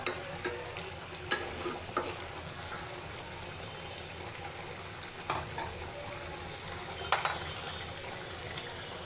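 Chicken curry simmering down in a pan: a steady sizzle and bubbling throughout, broken by occasional clinks and scrapes of stirring, close and even, with no voices.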